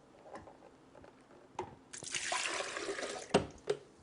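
Water runs into a container in a home kitchen for chia pudding, a steady close splashing stream that follows a few soft clicks and drips and ends in sharp knocks.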